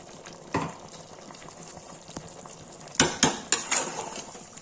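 A spoon stirs chicken curry in a sizzling pan just after tomatoes go in, with several sharp metallic scrapes and clinks over a soft, steady frying hiss, close and fairly quiet.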